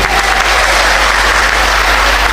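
A church congregation breaks into loud, sustained applause, a thick wall of clapping that holds steady and close throughout.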